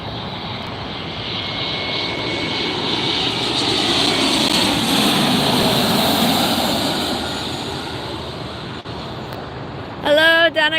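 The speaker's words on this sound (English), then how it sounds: "Alaska SkyWest Flight 3353 from San Francisco arriving" An Alaska SkyWest passenger jet arrives at LAX at night, its engines swelling into a loud, broadband roar that peaks mid-clip and slowly fades, with a brief burst of nearby voices at the end.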